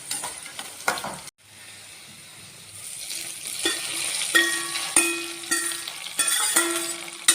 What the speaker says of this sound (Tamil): எல்லாம் பொறிஞ்சு வந்துருச்சுங்க இந்த தாளிப்பை இப்போ பொங்கலில் கொட்டிக்கலாங்க